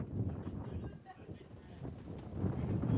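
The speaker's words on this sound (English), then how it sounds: "Wind is really picked up right now." Gusty wind buffets the microphone at an outdoor women's club championship ultimate frisbee game, a low, rumbling roar that dips and then builds again, with muffled voices faintly underneath.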